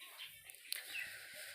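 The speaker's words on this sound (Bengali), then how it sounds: "শুধু পাখির শব্দ শুনবেন" Birds call over a quiet rural village in hilly, tree-covered country near Udaipur, with a few short, sharp chirps standing out above a steady high chorus and faint low background.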